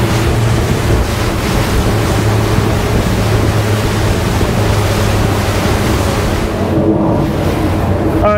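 A Regulator 34 boat runs flat out on a speed test, its engines giving a steady, loud roar mixed with rushing water, hull slap and heavy wind buffeting on the microphone throughout.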